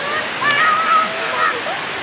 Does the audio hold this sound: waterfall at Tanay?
yes